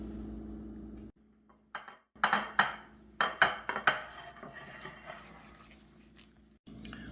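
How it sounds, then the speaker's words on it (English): A knife slices through low-carb cinnamon rolls in a baking pan, making a run of close, sharp metallic taps and scrapes against the pan, irregular and moderately loud over a quiet kitchen hum. "Okay, so now I'm cutting these cinnamon rolls."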